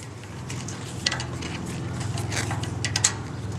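A metal clamp on a Witchdoctors muscle muffler is tightened by hand, giving close, quiet ratcheting clicks and short metallic ticks in an uneven rhythm with no talking.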